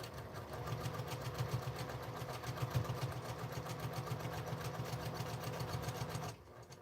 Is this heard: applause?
no